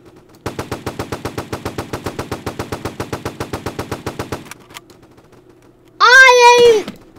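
Rapid automatic gunfire from the Roblox PUBG video game rattles out in an even burst of about thirty loud shots, followed after a short pause by a brief rising tonal game sound.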